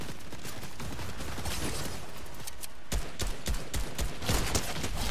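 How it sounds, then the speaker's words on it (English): Rapid bursts of video game gunfire fill the scene, dense crackling volleys that run continuously and grow louder near the end, with no voices. "They're shooting them, Prez."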